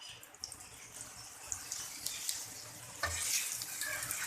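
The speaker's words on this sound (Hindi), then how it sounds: "अब हम इस पे घी डाल देंगे पराठा तलने के लिए और अच्छे से सेक लेंगे पराठे को।" Aloo paratha frying in ghee on a pan, a quiet, close crackling sizzle with soft scraping and stirring touches, faint throughout.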